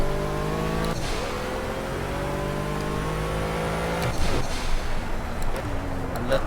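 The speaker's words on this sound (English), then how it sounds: "I love the turbos though. The turbo noise." Pagani Huayra engine in the Project Cars racing game, a steady loud drone with rising and falling harmonics as it revs and shifts, turbo whoosh and hiss layered over it, with a player talking faintly underneath.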